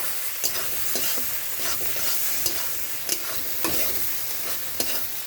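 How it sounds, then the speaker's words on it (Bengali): Ghugni is stirred in a pan over a steady frying sizzle, a spatula scraping and knocking against the pan in a loose repeated rhythm, close up, with no voices. "ভালো করে মিশিয়ে নিচ্ছি।"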